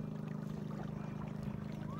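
A motorboat engine drones steadily and faintly, a low even hum with a slight regular pulse and no voices, heard from a small motor-driven boat in the rural Philippines.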